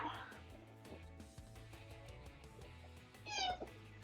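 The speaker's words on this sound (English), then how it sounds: "I'm holding a cat." A cat being held indoors gives a short, fairly faint meow near the end, over a low background of game music and room sound.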